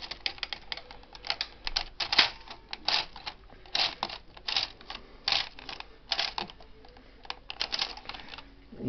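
A Bond knitting machine carriage runs across a row of needles for a Fair Isle weave, producing a close, steady run of sharp clicking and clattering pulses, with no talking.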